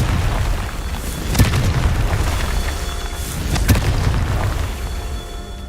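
Two loud explosive booms from a Confringo spell cast in a video game, each a sharp burst over a steady rumbling game background, spaced a couple of seconds apart.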